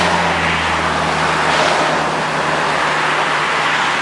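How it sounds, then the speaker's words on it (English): An old food truck (a gut truck serving spicy Mexican food) pulls up in California, its steady engine rumble and road noise loud and continuous throughout, with no talk. "So the old gut truck pulls up."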